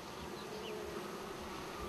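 Bees hum steadily around a honeycomb artwork, a soft continuous drone with no talking.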